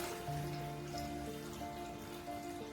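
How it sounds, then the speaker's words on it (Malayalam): Water poured into a cooking pot of crabs with ginger, garlic and salt for crab soup, a steady close splashing trickle that runs evenly throughout with no voices. "ഇനി നമുക്ക് വെള്ളം ഒഴിക്കാം"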